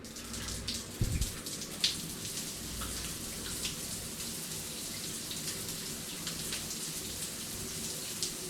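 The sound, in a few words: hotel shower running water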